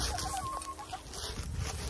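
Chickens clucking nearby in short, soft bursts as they are fed scratch during an icy winter, with a scratchy outdoor background and no talking.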